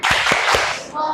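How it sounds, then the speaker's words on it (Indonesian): Schoolchildren in an Islamic primary school classroom clap a short rhythmic 'tepuk hebat' chant, three sharp clap bursts in quick succession with children's voices over them. "Beri tepuk hebat."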